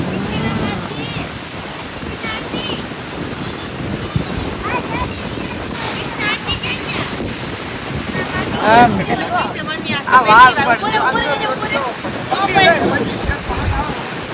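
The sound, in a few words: ocean waves on a beach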